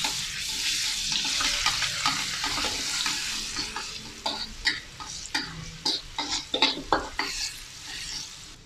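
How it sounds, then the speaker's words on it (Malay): Crushed garlic sizzles in hot oil while a utensil stirs and scrapes the pan in quick, repeated strokes, close up with no talking. "mula-mula kita akan tumiskan bawang putih yang telah kita tumbuk tadi"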